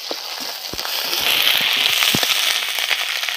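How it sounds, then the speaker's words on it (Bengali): Ginger-garlic paste sizzles loudly as it hits hot oil in a pan, a dense hissing crackle that swells after the first second and holds steady with scattered pops. "আদা রসুন বাটা দিয়ে দিচ্ছি"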